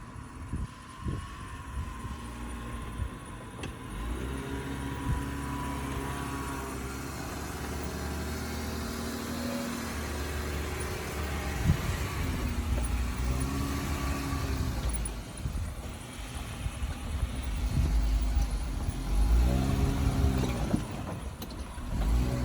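Jeep engine idling and working as it climbs a big rock on the Hole in the Rock Trail near Halls Crossing, Utah, a steady mid-pitched rumble with occasional revving swells and some wind noise.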